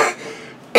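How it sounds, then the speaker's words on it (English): A single short, loud cough from a man feeling under the weather, at close range, followed by a sharp breath or second burst at the end, with no talk. "cough here."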